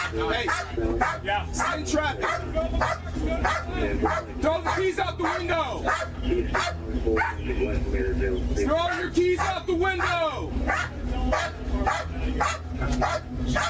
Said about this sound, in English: Dog in the car! Dog in the car!